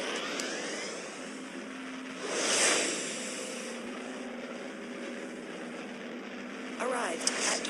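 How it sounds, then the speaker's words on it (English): Spaceship warp engine in the video game Second Galaxy, a broad whooshing roar that swells to a peak and eases into a steady rushing drone, with a computer voice announcing in the background. "Auto combat D starting warp engine."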